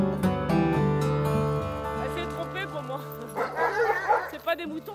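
Several dogs barking and yipping close by in a short burst, with people talking over and after the barks at a dog kennel business.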